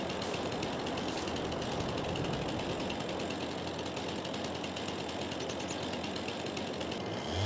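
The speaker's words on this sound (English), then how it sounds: "So now we chainsaw." A chainsaw in Farming Simulator 22 cuts into a tree, a constant loud buzzing rasp with dense mechanical chatter that runs steadily without pause.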